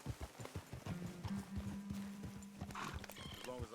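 A horse in Red Dead Redemption 2 clops along at a steady walk close by, then lets out a drawn-out whinny, with a voice speaking over the hoofbeats.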